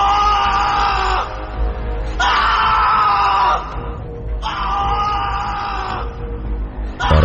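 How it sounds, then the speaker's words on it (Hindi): A man screams in a horror story, with three long, loud, strained howls close up, each lasting over a second and separated by short gaps, over a low rumbling backdrop. "इस बार वो चीखता गया"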